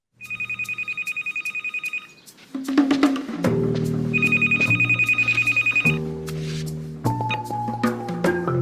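A telephone rings in repeated bursts of bell-like trills, then synthesized musical tones follow, loud and close with no talk.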